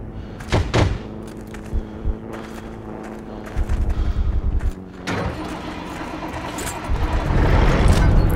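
An army jeep drives in the World War II shooter Heroes & Generals, with an engine rumble under a series of heavy thuds and knocks, building into a louder, steadier engine roar at the end.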